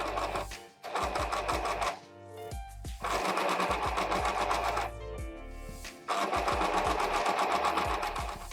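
A sewing machine stitches a seam on a split-dye shirt, close by, running in rapid rhythmic bursts broken by short pauses, with no talk over it.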